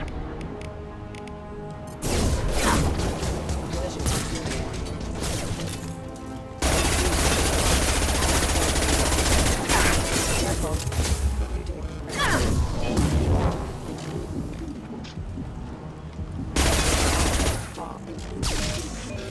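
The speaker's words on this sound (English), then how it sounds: "Firing a high-impact shot." High-impact gunshots from the video game Mass Effect 2, loud bursts of firing and impacts in several dense stretches broken by short quieter gaps, with voices heard among the combat noise.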